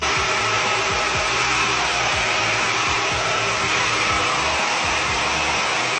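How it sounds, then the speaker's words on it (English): Hair dryer fitted with a diffuser drying curly hair, giving a steady, loud, close whooshing blow that holds without a break and with no talk over it. "utilizing a diffuser for about a couple minutes, just to dry it up, just so that it really absorbs everything"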